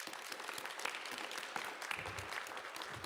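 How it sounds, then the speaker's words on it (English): Audience applause at an in-person event with Mayor Eric Adams: steady, dense clapping from a crowd throughout, fairly distant and even, with no voices on top. "Give yourselves a round of applause."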